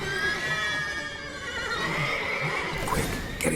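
Several horses whinny and neigh in a stable in The Witcher 3 video game, shrill calls repeating close by over a steady background, with faint hoof clatter near the end.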